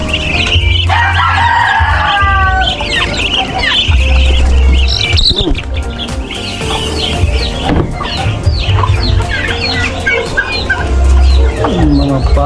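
On a rural Philippine farm, several chickens cluck and squawk close by in busy overlapping calls, with a rooster crowing among them and bursts of low wind rumble.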